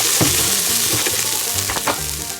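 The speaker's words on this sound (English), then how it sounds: "the onions and garlic look like they're sauteed" Onions and garlic sauté in a pan for a Thai pumpkin soup, crackling loudly and close with a steady sizzle and brief scrapes of stirring.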